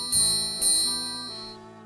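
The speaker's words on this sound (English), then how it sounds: "Okay, so we have a triangle." A triangle sound effect in a Nancy Drew video game rings out twice in quick succession, bright metallic strikes that shimmer and slowly decay over a second or so, alone without speech.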